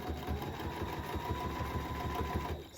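A sewing machine doing straight-line machine quilting runs at a steady pace, its needle thumping in a fast, even rhythm with a motor hum, close and continuous throughout.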